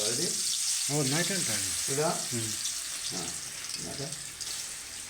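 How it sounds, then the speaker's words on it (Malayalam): Prawns fry in a hot pan with a steady, bright sizzle and hiss that runs throughout, while a person talks over the cooking. "അപ്പോൾ ചെമ്മീൻ വറുക്കണം"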